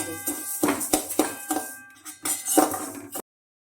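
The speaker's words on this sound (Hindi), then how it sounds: "अब मैं इसमें डाल दूंगी तीसी और इसे भूनूंगी" Flaxseed goes into a hot kadhai with a string of sharp metallic clinks and rattles, about half a dozen distinct hits close by, then a sudden stop into silence.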